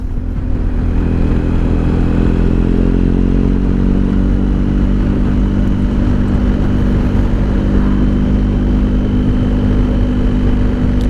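A steady, loud engine drone of motorcycles riding along a country road near Warrandyte and St Andrews, with continuous rumbling and a constant hum, no talk.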